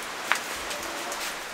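Steady rain falling outdoors on a farm, a dense even hiss of drops with one sharper nearby tap early on, continuous and moderately loud with no voices.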